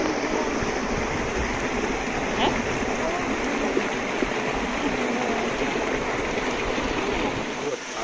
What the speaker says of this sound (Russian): вот этот водопадик, вот этот канал шумит по-разному